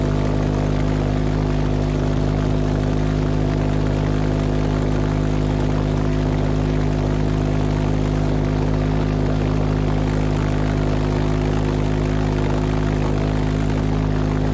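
A homemade jet aircraft engine on an outdoor test run: a loud, constant droning roar with steady tonal hum layered through it, unbroken and unchanging from start to finish.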